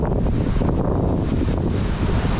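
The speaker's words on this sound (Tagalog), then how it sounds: "Grabe lakas ng hangin pa rin" Strong Typhoon Nika wind roars and buffets the microphone continuously, a loud, dense rushing with gusty surges and no talking.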